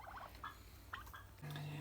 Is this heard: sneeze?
no